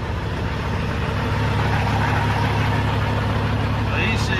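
Caterpillar C15A diesel engine in a truck idles with a steady, low rumble that stays constant and close throughout.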